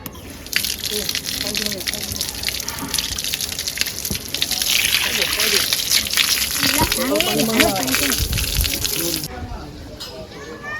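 Water gushes steadily from taps for washing hands and feet nearby, a continuous splashing hiss, while a person talks over it.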